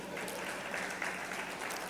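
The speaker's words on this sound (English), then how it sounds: "Please clap for Ireyo." An audience at the Catalysing Conversations 2023 event claps in a dense, sustained burst of applause that fills the short stretch, with no speech over it.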